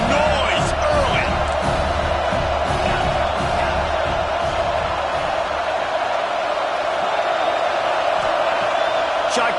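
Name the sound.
football stadium crowd cheering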